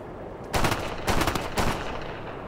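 Shotgun blasts in Ghost Recon Future Soldier, three loud, heavy shots spaced about half a second apart, each with a rough, ringing tail and no talk over them.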